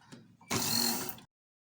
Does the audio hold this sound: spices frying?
no